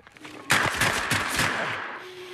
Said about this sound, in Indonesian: si penembak jitu kembali meluncurkan tembakan